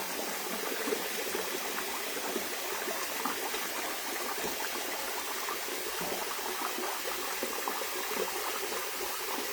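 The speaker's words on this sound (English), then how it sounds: "I'm actually going to add some more water to this." Water pours steadily into a washing tub used for handwashing a vintage wedding dress, a continuous close splashing and trickling flow with no talk.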